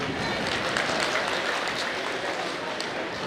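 A political rally audience in Karnataka, including women, claps throughout, giving a dense, steady wash of applause with voices mixed in.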